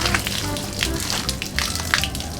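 Water poured over potted ornamental anthurium plants and their growing medium, a steady splashing trickle with scattered drips, close by, while someone talks over it.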